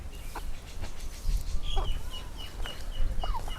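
Chickens clucking and calling around a feeding spot as they are given rice, with several short overlapping calls scattered over steady outdoor background noise.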